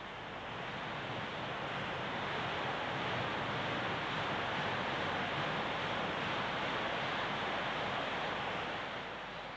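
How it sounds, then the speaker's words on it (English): Water steadily pours into the buckets of a turning waterwheel, a historic water-powered mill wheel, making a dense, continuous rushing wash that stays close and loud with no pauses or voices. "As the blind is rolled down, water flows into the buckets and the wheel begins to turn."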